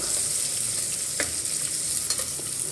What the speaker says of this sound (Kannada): ಈರುಳ್ಳಿ ಚೆನ್ನಾಗಿ ಬ್ರೌನಾಗಿ ಆಗೋವರೆಗೂ ನಾವು ಅದನ್ನು ಫ್ರೈ ಮಾಡ್ಕೋಬೇಕು.